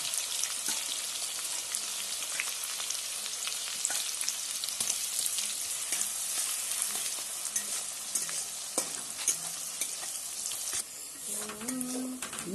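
Onions and green chilli frying in oil for chicken biryani, a continuous close sizzle with frequent spoon-stirring clicks and scrapes, a brief quieter moment and a soft tonal sound near the end.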